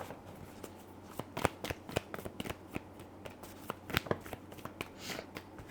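Tarot cards being shuffled and drawn, a steady run of soft papery riffles and flicks close to the microphone, with no talking over it.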